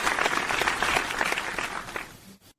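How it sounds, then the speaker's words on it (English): Audience applause for an introduced guest, dense clapping at moderate volume that carries for about two seconds, then tapers and cuts off abruptly. "let's just give him a round of applause"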